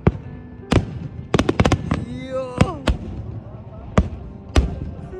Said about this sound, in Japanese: とんでもないぐらい綺麗な花火が見れておりますね。